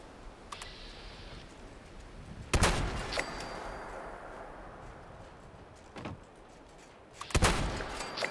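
Gunfire aimed at Liberator robots in Fallout 76, two sharp loud shots several seconds apart over a low ambient background, with a fainter crack between them.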